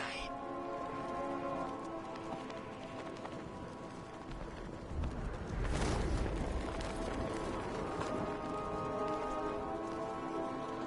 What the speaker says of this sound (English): For a game apparently to have good graphics, it has to be raining.